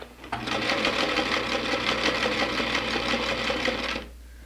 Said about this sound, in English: And we'll just sew very carefully